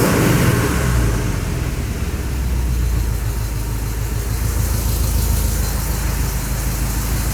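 Newly installed engine in a 1986 Chevrolet C10 truck running steadily just off idle, a continuous low rumble at close range with no talking.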